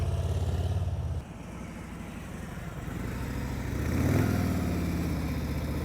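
A motorcycle idles loudly during slow-speed riding practice in Tennessee, drops quieter, then swells again as the throttle opens into a rising rev, heard alone without talk.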